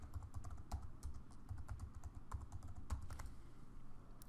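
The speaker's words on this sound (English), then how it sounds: "so go ahead and type in your password." Quick, light keystrokes as a password goes in on a computer keyboard, a steady run of soft clicks at close range in a quiet room with no talking.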